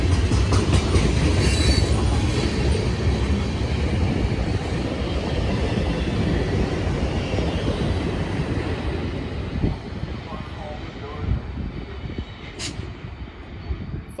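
CN freight train 570, a local on the Halton Subdivision in Ontario, rolling past, a loud heavy rumble with clattering wheels over rail joints that eases toward the end, followed by a sharp squeal.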